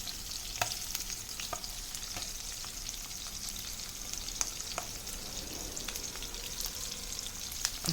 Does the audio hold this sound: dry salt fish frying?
yes